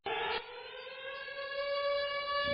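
An air raid siren opening a radio show, a loud, sustained wailing tone that comes on abruptly and holds steady with a slowly rising pitch, heard alone.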